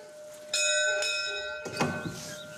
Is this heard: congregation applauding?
no